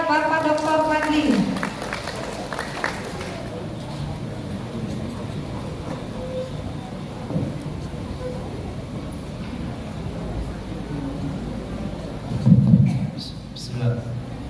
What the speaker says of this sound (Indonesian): Beri tepuk tangan buat Bapak Dr. Fadli.